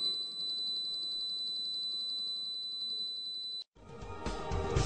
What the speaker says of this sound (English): What you're hearing now is the 4 kHz tone from the receiver telling us that we have alignment.